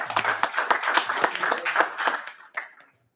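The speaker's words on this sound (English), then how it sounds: "So let's give her a big round of applause." A few seconds of applause for a guest at a state House committee hearing, clearly separate hand claps from a modest group in a hearing room that fade out and stop near the end.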